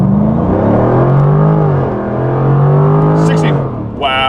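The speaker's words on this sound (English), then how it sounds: "I put it into sport. Let's go ahead and do a 0 to 60." A Jaguar F-Type R75 pulls hard in a 0 to 60 launch from a brake-boosted start, its engine note rising in pitch, dipping briefly at a shift, then climbing again, loud and close from inside the car.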